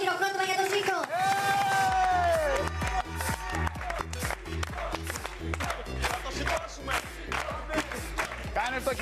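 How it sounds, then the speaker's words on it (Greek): A game-show studio audience claps in rhythm and cheers under loud, pounding music with a steady beat, the crowd noise largely blended into the track. "Ένα χειροκρότημα για το Ζήκο."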